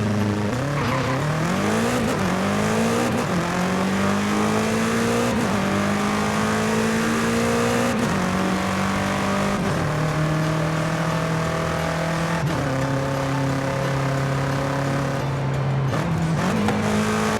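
A BMW M8 engine in Forza Horizon 5 accelerates loudly and continuously, its whining pitch rising then falling with each upshift, dropping to a steady high cruise.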